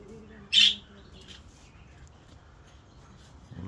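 A tame pet bird, close to three years old, gives one short, bright chirp near the start, followed by a quiet indoor background with faint low rustling.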